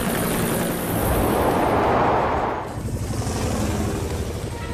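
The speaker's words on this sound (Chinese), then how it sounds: "用直升机的风把臭泡泡从沼泽吹出去" Cartoon helicopter hovering over a swamp, its rotor wind whooshing steadily and swelling to a loud rush midway before easing into a rougher, softer flutter.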